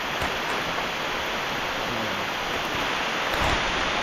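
Heavy rain pours steadily in a forest near a waterfall in Khao Yai, a dense, unbroken hiss filling the whole clip with no voices.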